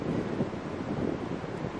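Strong wind buffets the microphone in a constant, heavy rumbling roar with no other sounds.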